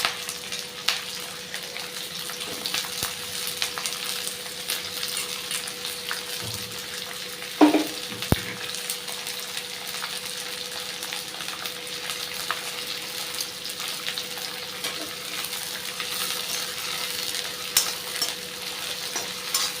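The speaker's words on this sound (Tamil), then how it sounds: "கட் பண்ணி நல்லெண்ணெய் ஃபுல்லாக 2 கரண்டி அளவுக்கு ஊற்றிட்டுருக்கேன்." Chopped pirandai fries in sesame oil with a constant close sizzle, broken by occasional clinks and scrapes of a spoon against the pan.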